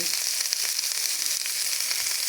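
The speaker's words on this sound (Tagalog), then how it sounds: "Kunti lang yung nilagay ko na bacon sa aking paggisa ng mga" Bacon and other ingredients sautéing in a pan give a steady, close frying sizzle with faint stirring ticks, constant and loud throughout, with no voice.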